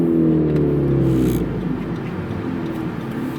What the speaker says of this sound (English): It is such a smooth engine that the way it revs is, it sounds different from like most of the cars I drive.